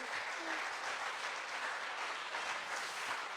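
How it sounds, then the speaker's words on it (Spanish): A church congregation applauds during a sermon, producing dense, sustained clapping that fills the space evenly at a steady level. "Alguien que le dé un aplauso a Jesucristo."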